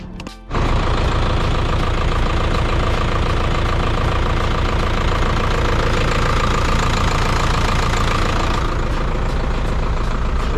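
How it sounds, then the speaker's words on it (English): An Isuzu NPR pressure-washing truck engine cranks briefly and catches, then settles into a loud, steady, close-up diesel idle with a rough knocking rhythm that continues without pause. "let me crank the truck up for you guys so you can hear it"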